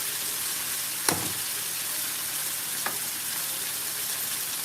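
Vegetable chow mein noodles stir-frying in a pan, a constant hissing sizzle with two brief knocks of a utensil, heard close and without voices.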